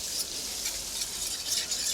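Crushed garlic frying with onions and chilies in a hot pan, a steady bright sizzle and crackle that holds close and even throughout, with no voices.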